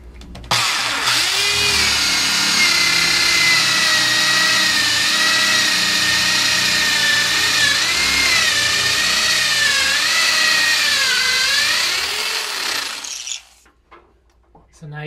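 Power drill bores upward into a wall to run wires, a loud continuous whine with rising and falling pitch as the bit loads, running about twelve seconds before stopping abruptly into quiet.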